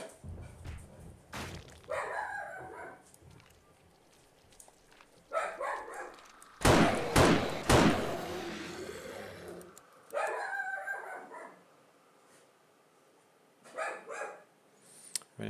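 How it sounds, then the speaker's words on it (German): A dog barks in bursts behind a 7 Days to Die horde-night session, with several short clusters of loud, close barks alongside game noise, separated by quieter stretches. "Naja, ist ja auch ein bisschen spaßig, wenn nebenbei im Hintergrund ein Hund bellt."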